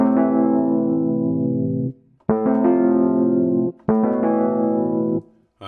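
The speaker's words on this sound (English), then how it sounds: "for this one, I'm using the Lounge Lizard VST. I'm using Tying It 9 under the RHODES section." Rhodes-style electric piano from the Lounge Lizard VST plays three sustained chords in a row, each struck cleanly and left to ring and fade before a short gap, warm and mellow with no voices.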